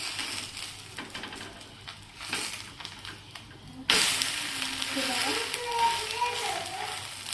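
Masala dosa flipped on a hot pan, a sudden burst of sizzle and frying crackle after a soft scrape, continuing loud and close while a voice talks over it.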